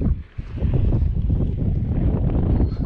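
Strong wind rushes over the microphone while power-kiting on inline skates, a loud, continuous low roar and buffeting that fills the whole stretch with no talking.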